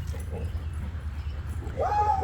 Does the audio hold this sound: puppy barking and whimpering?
yes